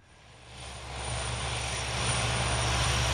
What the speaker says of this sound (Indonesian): bantuan dikirimkan dengan menggunakan pesawat Hercules ke tempat observasi WNI di Natuna